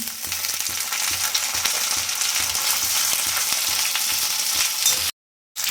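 Small cut potato pieces and chopped cauliflower florets fry in hot oil in a pan, a loud, steady close sizzle with faint stirring clicks, then a sudden brief silence near the end before the sizzle resumes.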